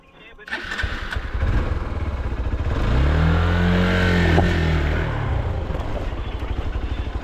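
Motorcycle engine starting and revving on rough off-road terrain at the Karabel pass, loud and close with rising, wavering revs over a steady rumble, and someone talks over it.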